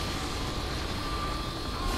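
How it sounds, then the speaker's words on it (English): A helicopter in the video game Saints Row the Third thrums steadily overhead, a dense, continuous rotor and engine roar at fairly close range. "Where's that chopper? There he is."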